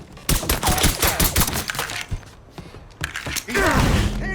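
Gunfire in the video game Mafia 3 Definitive Edition, rapid bursts of close, loud shots in quick succession with mechanical clatter and brief lulls, ending in a heavy rumble.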